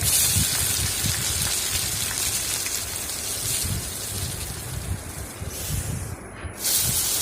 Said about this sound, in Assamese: এতিয়া বিলাহীখিনি ভালদৰে ভাজি ল'ম যাতে বিলাহীৰ কেঁচা গোন্ধটো নোহোৱা হয়